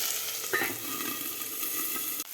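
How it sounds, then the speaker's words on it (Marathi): Broad bean pods frying in oil in a covered pan, giving a loud, steady, close sizzle that runs unbroken throughout, with no voices. "आपल्याला ही शेंगा झाकण ठेवून परतून घ्यायचे आहे"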